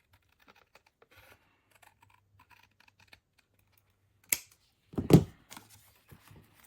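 Paper for a Christmas journal being trimmed, with faint light rustles and ticks at first, then a sharp cut and a louder crisp crunch of paper near the end, close and alone.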